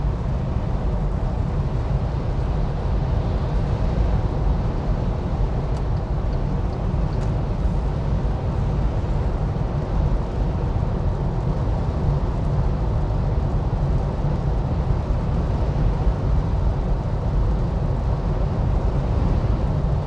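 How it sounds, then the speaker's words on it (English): Steady broadband wind and road roar inside a moving MG5 car driving on a highway, a constant dense rumble with no breaks and no talking. "it's kind of noisy from the wind noise"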